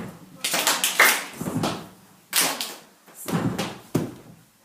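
Students clapping a rhythm exercise in a classroom, sharp claps in small grouped bursts separated by brief pauses, with voices calling out over the pattern.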